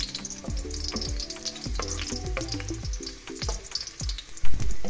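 Garlic sizzles and crackles in hot oil, a steady close frying hiss broken by spatula scrapes and stirring knocks, with no voices.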